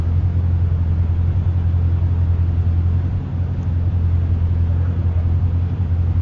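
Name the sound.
Corvette C6 Z06 with Billy Boat exhaust, heard from behind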